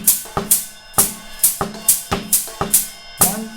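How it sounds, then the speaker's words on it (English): A drum kit plays stacked 2:3:4:5 polyrhythms, with sharp cymbal and drum hits layered in an interlocking, uneven-feeling pulse, close and alone without talk. "Now I'm going to go ahead and play all of these polyrhythms together"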